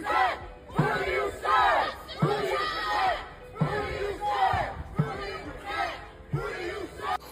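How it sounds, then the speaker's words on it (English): A large crowd at an outdoor gathering cheers and chants in repeated rhythmic surges, voices rising and falling in waves at a moderate distance. "I don't know why they're cheering."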